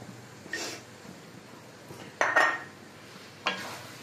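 Spatula scraping and tapping in a pan of pav bhaji vegetables being stirred while they fry, a few sharp metallic clinks over a quiet background.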